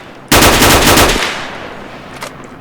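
Rapid burst of automatic gunfire from STALKER: Oblivion Lost, about a second of loud, close rattling shots that stops abruptly, followed by a fading echo and one faint later shot.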